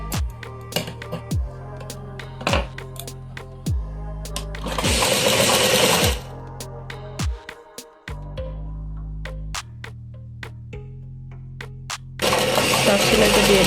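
A sewing machine stitching the front of a blouse runs in short repeated bursts of rapid mechanical chatter separated by pauses and clicks, close and clear, with two longer denser runs of stitching and no talk.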